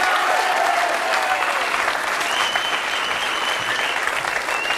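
A studio audience at a French talk show applauds steadily for a guest, a dense sustained clapping that holds at an even level throughout, with faint tonal whistle-like traces over it.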